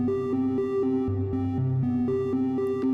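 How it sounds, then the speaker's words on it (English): Granular synthesizer patch with reverb added, a sustained droning tone stepping through short held pitches in a steady rhythm, loud and continuous with a smooth reverberant wash and no voices. "we're just adding some reverb to our sound"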